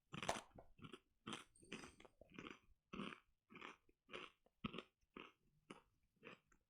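Crisp, close crunching of a Japanese cinnamon sugar snack, with a dozen or so evenly spaced bites and chews in steady rhythm, no talking.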